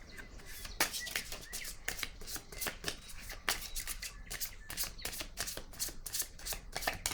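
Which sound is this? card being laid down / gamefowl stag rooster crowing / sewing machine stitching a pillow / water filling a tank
card being laid down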